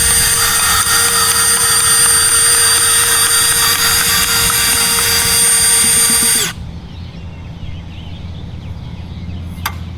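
Powered golf hole cup cutter running in reverse, a loud steady high-pitched motor whine with constant buzzing that stops abruptly after about six seconds, leaving quiet room noise and one faint click.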